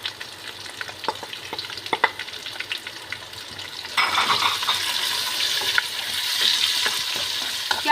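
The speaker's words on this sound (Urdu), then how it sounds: "پیازوں کو ہم اچھی طرح سے بھونیں گے" Onions fry in a pan for a pasta and keema dish, with sparse spoon clicks and light sizzling at first, then a louder, denser sizzle that holds steady for the rest.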